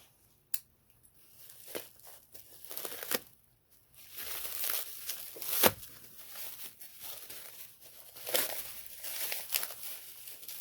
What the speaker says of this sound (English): Looks pretty well wrapped. So look, an unboxing, yay. But let me get the cutting device out.